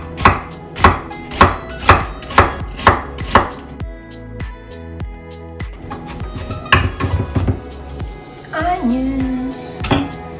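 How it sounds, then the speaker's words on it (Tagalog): A knife chops onions finely on a board in a home kitchen, about ten sharp, evenly spaced near strokes, then softer clatter and scraping of utensils and dishes. "Chop natin siya ng maliliit."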